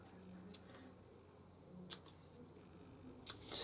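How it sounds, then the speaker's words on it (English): Scissors snipping through loops of ribbon for a handmade birthday card, three quiet, crisp snips spaced a second or so apart over a soft background hiss. "just snip them, and you can do all 6. You can just chop them down,"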